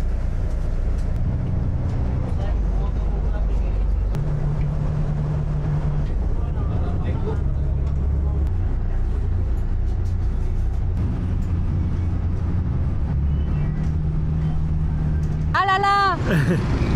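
Inside a city bus riding through Cebu in the Philippines, a low, steady engine drone and road rumble fill the cabin continuously. Occasional faint voices and a short squeal near the end rise above it.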